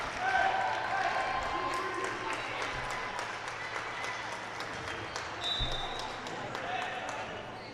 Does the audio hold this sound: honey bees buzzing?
no